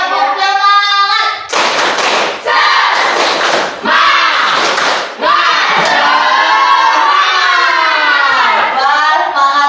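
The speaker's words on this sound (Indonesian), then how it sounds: "Biar kamu semangat lagi, kita tepuk semangat dulu ya" Classroom children perform a rhythmic clapping chant, with bursts of sharp group claps alternating with loud sung and shouted chant phrases in a lively patterned rhythm.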